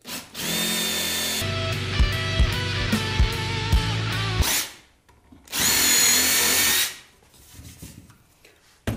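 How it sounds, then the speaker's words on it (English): A power drill countersinks holes in wooden parts of a modern Adirondack table, with several short whirring bursts close up, a pause, then another sustained drilling burst. "I want you to countersunk through the backs as well."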